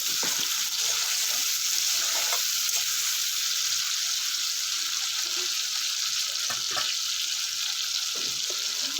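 Tomatoes frying with a little salt in a pan for a fish curry, a steady loud sizzle throughout with occasional stirring clicks.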